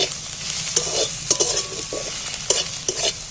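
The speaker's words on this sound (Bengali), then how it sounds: "পেঁয়াজটা একটু নাড়াচাড়া করে লাল লাল করে একটু ভেজে নেবো" Onions frying in a pan hiss with a steady sizzle while a utensil stirs and scrapes them in repeated strokes, close and clear with no voices.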